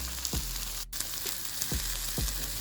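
Shrimp grill in butter with a constant close hiss of sizzling, marked by a few soft thumps or taps as pieces are moved, without any speech.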